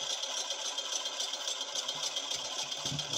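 Fishing boat engine running at sea, a steady close rattling drone with a faint low thump near the end.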